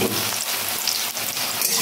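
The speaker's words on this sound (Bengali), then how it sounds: "আমি আলুগুলো প্রথমে ভেজে নেব" Potatoes fry in hot mustard oil in a wok, making a loud, continuous close-up sizzle with crackling spatter and no talking.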